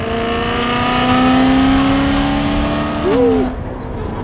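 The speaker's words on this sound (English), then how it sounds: "this is probably the nicest sounding car ever" A 2013 BMW M3 E92 revs hard while accelerating during a ride-along, its engine note climbing steadily, then dipping and surging again, heard from inside the car as a passenger briefly cheers.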